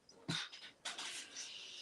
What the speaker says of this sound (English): Of course, he barks at everything pretty much.